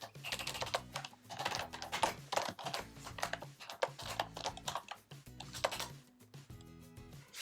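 Steady bursts of rapid keystrokes on a computer keyboard while code is typed, close and moderately loud, with short pauses between runs of typing.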